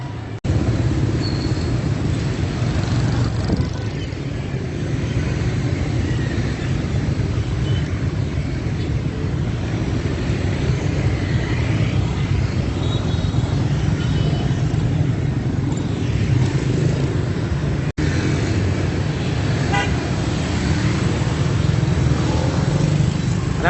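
Busy street traffic in Vietnam, with motorcycles and cars passing continuously in a dense engine drone and road noise, a few louder pass-bys and faint distant voices.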